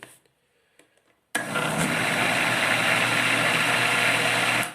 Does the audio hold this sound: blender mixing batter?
yes